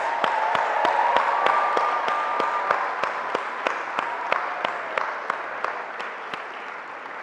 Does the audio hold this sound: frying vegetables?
no